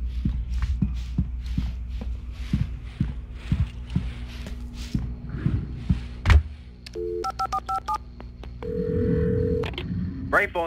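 Telephone in a gas station in the Alan Wake video game being dialed, a run of short keypad tones followed by a steady ringing tone, after footsteps and a thud, fairly quiet.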